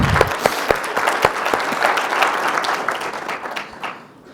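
Applause from an award ceremony audience, a loud, dense burst of clapping that builds quickly and then fades away over a few seconds.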